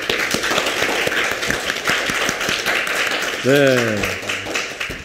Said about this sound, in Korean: 오늘 강연 재밌으셨으면 박수 한번 부탁드릴게요.